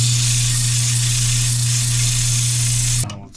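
Square gouge shaving scrap wood on a spinning lathe to flatten the base of a salt jar: a loud, steady hissing scrape over a constant motor hum, cutting off abruptly near the end.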